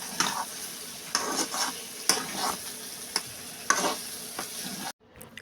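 Fried prawns being stirred into a sizzling pan for a prawn malai curry, with rhythmic spoon scrapes over a steady hiss, close up, ending abruptly.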